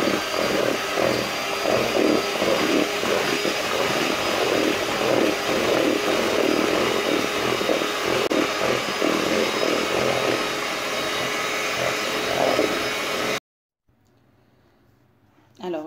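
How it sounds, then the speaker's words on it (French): An electric mixer beats eggs and sugar for a chocolate cake batter, giving a loud, steady motor whir for about thirteen seconds before it cuts off abruptly into near silence. "on va mélanger les œufs et le sucre et on va battre."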